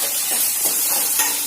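Small onions, finely chopped, sautéing and being stirred in a pan: a steady bright sizzle with soft scraping stirs, close and continuous, no voices.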